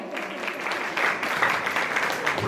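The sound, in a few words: applause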